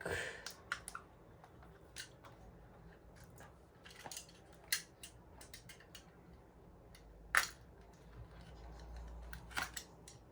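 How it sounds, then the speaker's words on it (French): Quiet, scattered snips and clicks of scissors cutting adhesive tape on an e-scooter battery pack, irregularly spaced, close and soft against a low background hiss. "Et maintenant on va couper le scotch."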